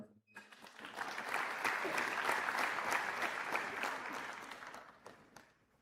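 At a medical school white coat ceremony, an audience breaks into applause after a brief pause, the clapping rising quickly, holding steady for several seconds, then tapering off, with no voices over it.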